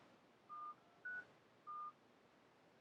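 Three DTMF keypad tones dialed on a telephone during a call setup between phones on a DragonOS Osmo/YATE cellular test network; short, evenly spaced beeps with quiet pauses between them, no voices.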